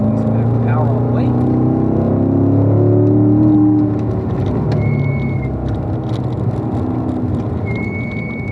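A Corvette engine drones under full throttle on a driving-school track, a loud rising then steady roar heard from inside the car, with an instructor talking over it.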